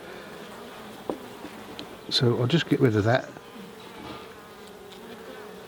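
Honeybees buzz around an open hive while a beekeeper works on it, a steady insect drone with a louder burst of close buzzing midway; someone talks briefly at the start.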